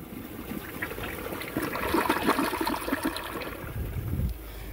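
A 2007 Gerber Allerton toilet flushes close by, a rushing gurgle of water that builds, peaks, and drains away over a few seconds, ending with a soft refill trickle.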